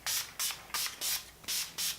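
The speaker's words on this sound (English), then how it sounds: "I'm going to go ahead and set my face with a little bit of the Urban Decay setting spray" Urban Decay setting spray misted onto a face: six quick, evenly spaced hissing spritzes in a steady rhythm, close and clear, with no talking.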